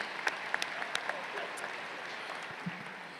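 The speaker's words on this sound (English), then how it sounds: "Let's give her another round of applause." Applause from a large audience at a high school graduation ceremony, steady distant clapping across a big hall with a few sharper nearby claps standing out, moderately quiet and sustained.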